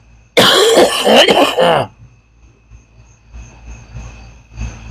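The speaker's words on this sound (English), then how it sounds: "He's been coughing all night long." A loud, close burst of rough coughing lasting over a second, then quiet with a faint steady hum and soft rustling.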